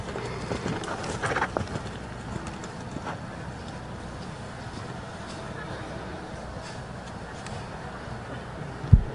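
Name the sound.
horse hooves clip-clopping in show jumping arena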